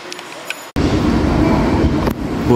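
A freight train pulling out near an Amtrak station: after a quiet moment, a loud, steady low rumble of rolling rail cars starts abruptly and continues close by.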